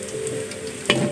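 Tempeh frying with dried chili in a pan, a continuous close sizzle with light scraping as it is stirred, and one sharper clack of the utensil against the pan near the end.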